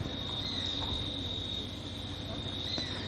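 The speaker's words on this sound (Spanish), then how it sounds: "Las que no podemos poner en silencio son las chicharras." Cicadas drone in a continuous, even high-pitched buzz at an outdoor tennis court, steady throughout with faint background noise and no talk.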